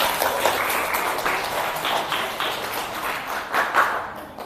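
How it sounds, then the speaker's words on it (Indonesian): Students in a classroom clap together to applaud a group's presentation, a steady, moderately loud patter of many hands that lasts the whole stretch, with a few sharper claps standing out near the end. "Tepuk tangan untuk yang visual."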